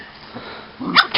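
A dog makes soft huffs and snuffles, then gives a short, sharp yip close by, with no talk over it.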